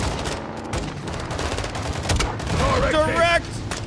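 Rapid gunfire bursts in the video game Modern Warfare II, dense and continuous with booming impacts, while several players shout over the shooting.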